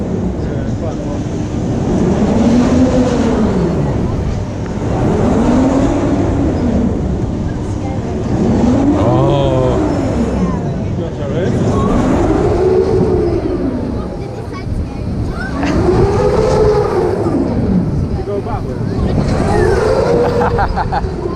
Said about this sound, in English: Right, here we go on the flying carpet.